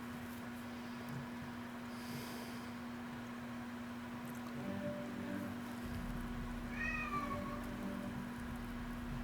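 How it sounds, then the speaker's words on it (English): A cat meows, a few short rising-falling calls in the middle and latter part, faint against a steady hum and room noise. "Get ready for the meow. The big meow."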